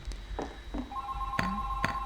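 A telephone ringing inside the Garry's Mod video game, with a few short electronic rings and tones repeating over a low room rumble, fairly close.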